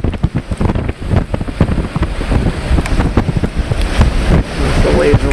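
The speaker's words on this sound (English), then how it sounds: "The waves are rolling in here." Storm waves roll in against an EZ-Dock under strong gusty wind, with water sloshing and slapping close by and loud wind buffeting the microphone throughout.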